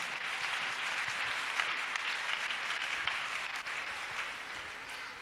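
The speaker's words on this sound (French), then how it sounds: "Acclamons Jésus-Christ." A church congregation at a praise and worship service claps and applauds for Jesus Christ. The applause is dense and sustained, fairly distant, and stays steady throughout with no voices over it.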